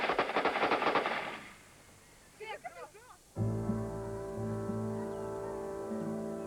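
A machine gun fires a fast, loud rattling burst at the start, followed by someone speaking and then music.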